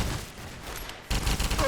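Turrets in the Fallout video game fire a rapid, dense volley of shots that lasts under two seconds and grows harsher partway through.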